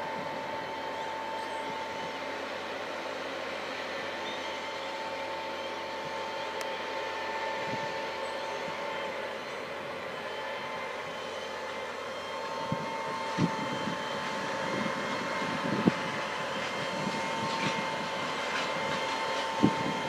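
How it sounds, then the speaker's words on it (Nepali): A tractor ploughing a farm field in Canada gives a steady, continuous engine drone at moderate level, with a few louder knocks and clunks toward the end. "जोतेर सिद्धाइसक्यो ट्र्याक्टरले।"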